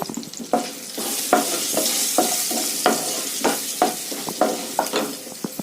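Green chillies, curry leaves and asafoetida fry for tamarind rice, a loud crackling sizzle broken by regular spatula scrapes and taps against the pan, close up, with no voices.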